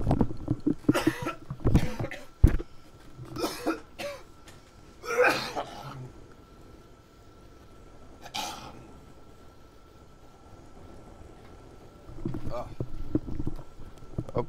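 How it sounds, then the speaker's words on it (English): A man coughs in a rough cluster of harsh, close bursts, then again after a quiet stretch, with a couple of throat-clearing sounds in between and no clear words. "One moment while I cough to death."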